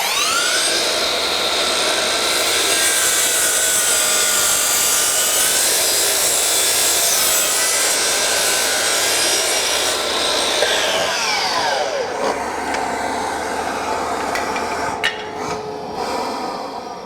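A Makita XGT cordless saw on an 8Ah battery slices small cuts off 2x lumber, a loud continuous high-pitched whine with a steady tone that sags as it bites into the wood, then spins back down near the end.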